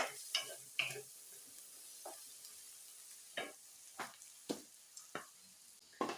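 Onion frying in a pan while being stirred: a quiet steady sizzle with a series of sharp, separate clicks and scrapes of the utensil against the pan at irregular intervals.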